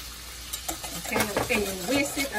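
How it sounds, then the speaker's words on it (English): Sauce for scalloped potatoes whisked in a pot over rising heat, salt and pepper added, giving a run of close, scraping and swishing strokes with a faint background sizzle. "And you whisk it until all the lumps are out of it, until it's smooth."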